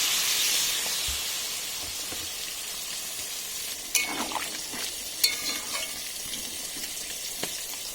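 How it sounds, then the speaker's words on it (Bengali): Fish head and vegetables in a pan sputter and hiss as water goes in, with steady steam noise and a few sharper crackling bursts, close and fairly loud, no voices. "ভাজা গন্ধ বেরিয়ে গেছে তাই আমি দিয়ে দিচ্ছি এর মধ্যে পরিমাণ মতন জল"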